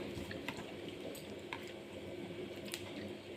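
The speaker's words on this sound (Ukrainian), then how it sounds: "Чайник закипає." Faint bubbling and crackling hiss of water coming to a boil in a kettle, with small ticks and pops scattered through the steady wash.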